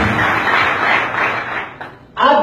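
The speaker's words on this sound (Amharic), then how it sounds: "አረ ጭብጨባችሁ ምን" Sustained clapping from a seated audience during a live talk, a thick wash of many hands that thins out near the end before a voice cuts in.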